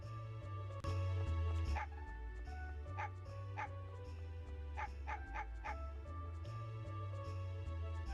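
A dog barks in the Mega Man Legends video game, a series of short, sharp yips coming in quick bursts over a steady low game soundtrack hum.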